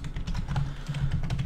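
Rapid, uneven clatter of a computer keyboard during C++ coding, keys struck close and steadily for a second and a half with no voice.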